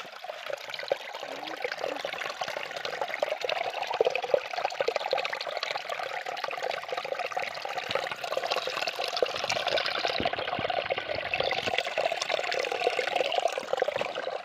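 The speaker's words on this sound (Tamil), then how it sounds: "பூராமே நீர் ஊற்று தான்." Spring water flows continuously through a dense mountain area, a steady bright trickling and splashing that stays even and fairly close throughout, with no voices.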